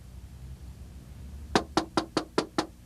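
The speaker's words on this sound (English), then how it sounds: "Oh, somebody's at the door." Six sharp knocks on a door arrive in a quick, even series after a quiet stretch, crisp and close.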